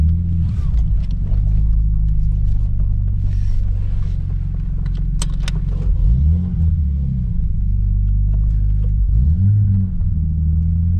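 Inside a moving Nissan Skyline R33 with a five-speed manual, the engine drones in a steady, loud low rumble, rising and falling twice as it revs through gear changes.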